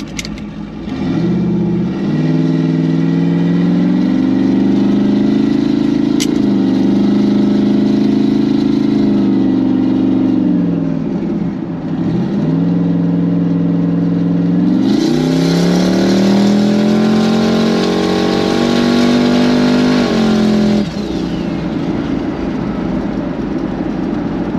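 Chevrolet Camaro engine revving while driving, a loud, close, steady mid-range drone that rises and falls in pitch through several accelerations and shifts, with no talk over it.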